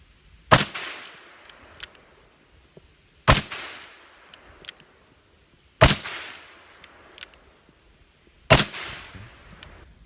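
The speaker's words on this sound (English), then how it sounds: "I'm going to take a few shots with the 586" Four sharp, loud gunshots from a Smith & Wesson 586 .357 Magnum revolver, fired outdoors at a rubber dummy and spaced about two and a half seconds apart, each with a short ringing decay.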